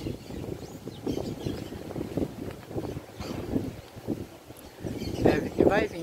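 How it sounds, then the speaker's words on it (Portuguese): Strong wind gusting over an open riverside area on the Rio Tapirapé in Mato Grosso as rain approaches, a steady, close buffeting rumble on the microphone that swells and fades, with people talking throughout. "o vento tá ventando muito"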